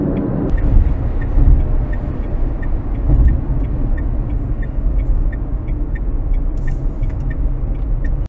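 A Dacia Spring electric car drives off an expressway onto a country road, with a steady, loud road and tyre rumble inside the cabin and a soft, even ticking running through it.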